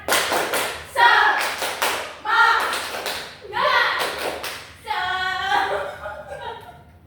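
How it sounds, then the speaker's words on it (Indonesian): A classroom of students performs a rhythmic spirit clap, with bursts of patterned hand claps alternating with chanted voices. The class claps and chants together in a lively, evenly paced sequence, ending on a sustained shout. "Tepuk semangat."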